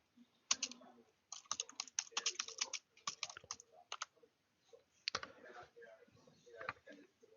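Fingers type on a computer keyboard in quick, uneven bursts of soft clicking keystrokes with short pauses between them, close by and fairly quiet.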